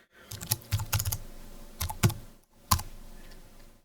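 Typing on a computer keyboard while working in Illustrator, heard as uneven bursts of close key clicks with short pauses between them, alone without talk.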